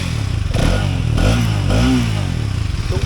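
A Hero Xtreme 250R motorcycle engine runs up close, loud and mechanical, with clattering and tapping that may come from the timing chain or tappets, and two or three brief revs swelling then settling.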